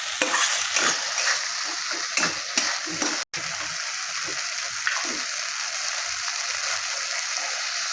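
Water poured onto poppy seed spice paste frying in oil, giving a loud, dense, hissing sizzle that carries on steadily with occasional stirring scrapes, close up.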